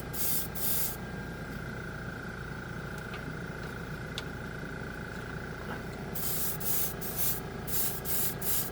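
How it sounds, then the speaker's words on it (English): An air compressor for an airbrush, used to spray acrylic paint, runs as a steady broadband hiss with a hum throughout, and brief sprayed bursts rise at the start and the end. "there goes the compressor again"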